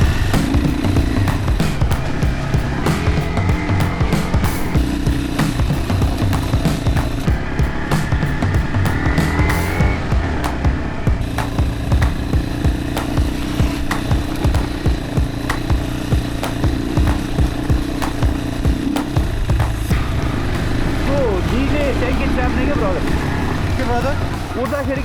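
A dirt bike engine revs and strains continuously while riding a rough jungle track in Nepal, loud and close with constant throttle changes, and voices talking over it.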